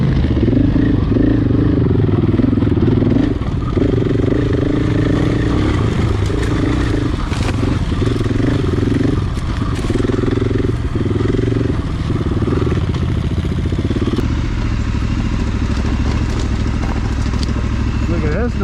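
A Triumph 1200 XE Scrambler motorcycle engine runs steadily, a loud continuous rumble with faint clatter, while people talk over it.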